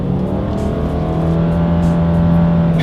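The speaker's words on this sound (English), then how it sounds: "let's go ahead and do a quick little acceleration here, and let's see how quickly we can get the new 2020 Subaru Forester here up to speed" A 2020 Subaru Forester accelerating hard, its engine drone rising steadily in pitch as it pulls up to speed, loud and continuous with no talking.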